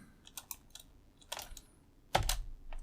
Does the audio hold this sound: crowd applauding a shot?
no